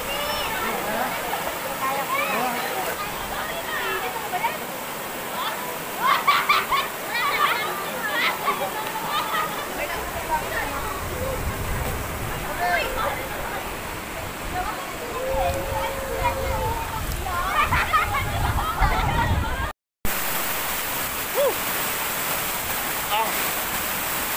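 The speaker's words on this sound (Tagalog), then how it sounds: "Ito yung park ng falls dito sa Pari Falls." Pari Falls in Bulacan sends up a steady rushing roar of falling water, while people talk and shout in the foreground over the constant wash.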